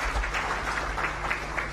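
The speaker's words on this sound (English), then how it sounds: "Another round of applause for Mr." An audience at a national integrity and service delivery awards ceremony claps, a moderate, even patter of applause with a faint steady hum underneath, lasting under two seconds.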